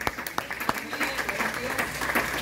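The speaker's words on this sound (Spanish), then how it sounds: "Un aplauso al Señor." A church congregation breaks into applause, a few crisp early claps swelling into a continuous, moderately loud patter of many hands, with voices mingled underneath.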